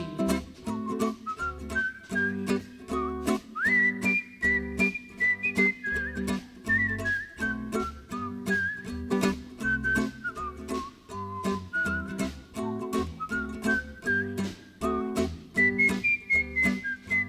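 A musical whistler performs a bright, lilting melody alone, each phrase made of clear sustained and sliding notes over a steady rhythmic backing accompaniment, at a stage awards show.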